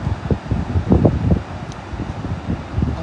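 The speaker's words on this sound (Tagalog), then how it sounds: "Hangin siya, hangin." Wind gusting outdoors on a sunny summer day at a seaside vacation spot, a steady low rumble and buffeting against the microphone that swells in waves with no talking.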